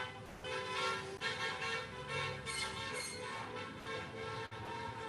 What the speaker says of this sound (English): we're having live music with some honking outside.